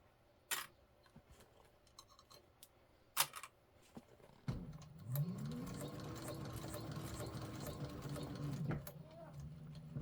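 A sewing machine runs a steady burst of stitching on a handbag, back-stitching at a seam point, preceded by a few sharp clicks and handling taps, close and fairly quiet with no voices.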